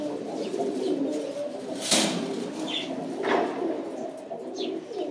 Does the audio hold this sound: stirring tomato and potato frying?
no